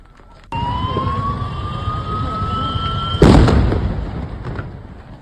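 A sharp, powerful blast in Jalgaon, Maharashtra bursts in over a steady wailing siren, its roar fading slowly over the following seconds.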